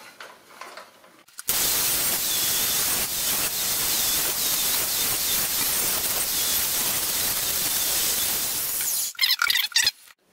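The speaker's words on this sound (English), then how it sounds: "I've set the depth of the saw to be about 1/4 inch, so that should leave me about 1/8 of an inch of material left over once I notch this out." A saw set to about a quarter inch deep notches a Yamaha Enticer snowmobile seat, giving a loud, continuous, hissing roar that starts abruptly, runs steadily for about seven seconds and then cuts off with a few short bursts.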